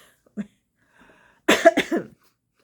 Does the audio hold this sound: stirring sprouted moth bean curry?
no